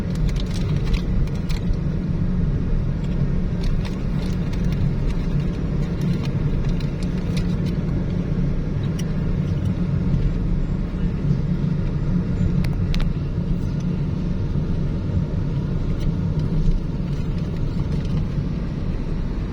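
Road traffic heard from inside a moving car on the way to Floridablanca, Pampanga, a steady low engine and tire rumble with occasional faint clicks, continuous and without talk.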